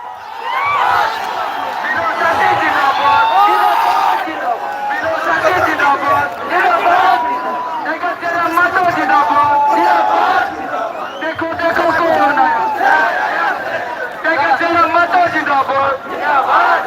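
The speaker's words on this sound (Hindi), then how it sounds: "भीड़ नहीं है भाई, जनसैलाब है" A huge crowd at a political rally roars and chants, loud overlapping shouts and cries surging in waves throughout, with voices mixed into the din.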